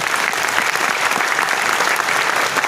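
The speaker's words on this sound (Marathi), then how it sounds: "आपण जोरदार टाळ्या वाजवूया." An audience applauds at the close of an interview event with a veteran actor, a dense, loud, sustained wash of clapping from a large crowd that fills the whole stretch without a break.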